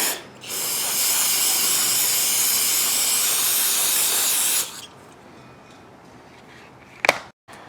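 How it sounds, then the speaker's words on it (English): Brake parts cleaner sprayed onto a Tecumseh lawn mower engine: a loud, steady close-up hiss lasting about four seconds, then quiet room tone and a short clatter near the end. "I'm just going to take some brake parts cleaner here and clean off all the dirt around the"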